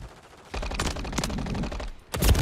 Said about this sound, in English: I got shot from my right.